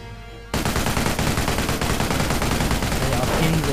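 Sustained machine gun fire from an MG position pinning Fallschirmjäger in a WWII strategy game, a loud continuous rattle that starts abruptly after a quiet moment and keeps going without pause.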